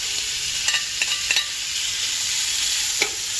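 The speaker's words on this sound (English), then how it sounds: "it's sizzling. Let's go. In the bacon goes." A steady, hissing sizzle of bacon frying in a hot pot, with a few faint clinks of stirring.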